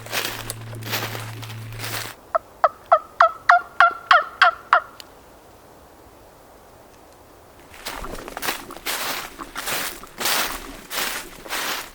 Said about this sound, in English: I think that bird just gobbled,